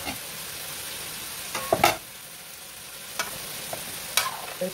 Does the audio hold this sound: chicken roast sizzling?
yes